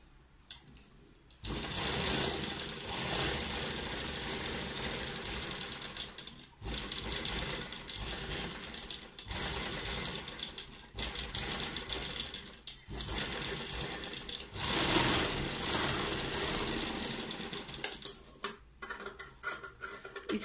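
A sewing machine stitches around a cold-shoulder sleeve in a circle, running in several bursts of rapid mechanical whirring, each cut off by brief pauses.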